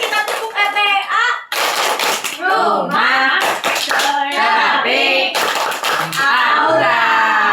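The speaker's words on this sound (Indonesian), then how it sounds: "Boleh tepuk tangan sekali lagi." Group of children and adults at an Indonesian therapy-centre holiday session clapping hands together in repeated bursts, with a voice speaking over the claps.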